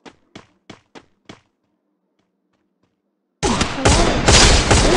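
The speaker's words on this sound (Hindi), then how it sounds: "MP40 से उड़ा देना।" MP40 submachine gun in a video game, five quick, sharp shots in a short burst, then silence, then a loud, dense stretch of game noise.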